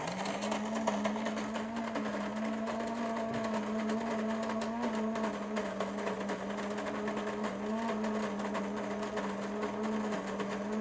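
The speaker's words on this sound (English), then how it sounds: "This is the first time I've heard the new grinder." A Breville Grind Control coffee maker grinds beans with a continuous steady mechanical whir that holds one even tone from start to finish. The grinding sounds close and moderately loud, with no talk.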